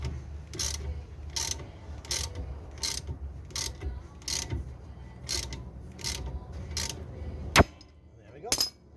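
A ball joint splitter nut is tightened with a ratchet on a classic VW Beetle front beam, giving a steady series of close, crisp ratchet clicks, then a sharp loud pop as the joint lets go, with a further clack after.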